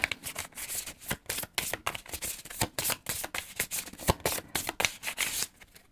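Tarot cards being shuffled up close, a steady run of crisp riffling bursts and soft rubbing pulses repeating across the whole stretch, with no voices over them.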